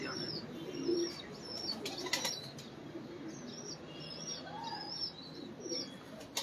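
Large pigeons at a loft flapping their wings in short bursts, with soft cooing and chirps under a steady outdoor hum, fairly close and moderately loud.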